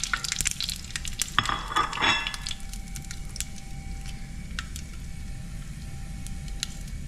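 Hot oil crackles and sizzles steadily as mustard seeds and dried red chilies are tempered, with a burst of popping and spattering early on, then continued light sputtering and occasional sharp pops.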